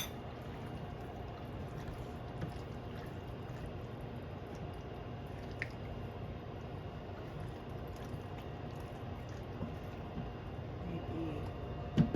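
Water poured into a cooking pot in a home kitchen makes a faint, steady trickling wash that runs throughout at low level, with no clear voices over it.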